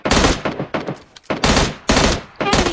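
Automatic gunfire from PUBG Mobile Lite comes in loud, close bursts of rapid shots, several volleys separated by brief pauses.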